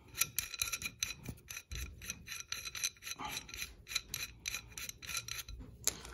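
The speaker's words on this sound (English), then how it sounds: "So we'll go ahead and screw this off." A tie rod end being unscrewed by hand makes rapid, repeated metallic rasping and ratcheting clicks close up, steady in rhythm with short pauses.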